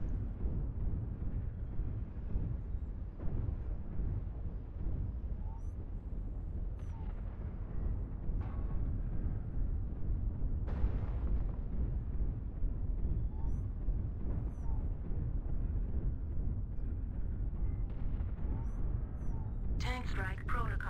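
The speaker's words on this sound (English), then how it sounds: "Tank strike protocol active." Tank strike explosions in a multiplayer video game rumble as a dense, continuous low roar across the whole stretch, with heavy thuds layered throughout and a brief bright burst near the end.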